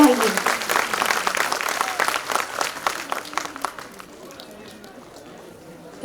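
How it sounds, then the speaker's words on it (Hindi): Audience applause at a school annual day, loud dense clapping from a crowd that gradually fades out over several seconds into quieter room noise. "जोर से तालियां बजाएं और इनका कॉन्फिडेंस बढ़ाइए।"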